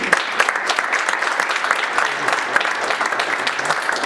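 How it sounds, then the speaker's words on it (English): A crowd at a mayor's levee event applauds, with dense, sustained, loud clapping filling the whole stretch and no speech over it. "How about a round of applause for Terry?"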